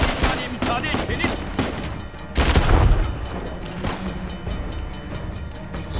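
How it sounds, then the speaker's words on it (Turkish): A train arrives in Uncharted: The Lost Legacy amid dense gunfire, a loud rumbling rush of rail noise swelling midway, mixed with sharp rapid shots and game action. "Hadi tren geliyor hadi."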